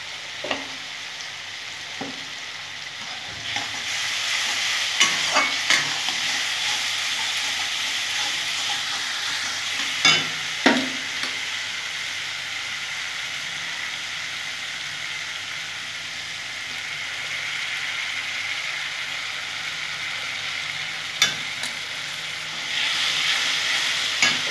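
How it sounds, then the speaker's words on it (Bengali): Ground spices for pea ghugni sizzle and fry steadily in a pan, a continuous close hiss with occasional soft stirring clinks and scrapes, no talking. "ভালো করে কষে নেবো"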